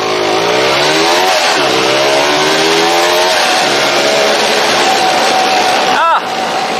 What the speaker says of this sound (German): Ihr schmeißt den Motor an,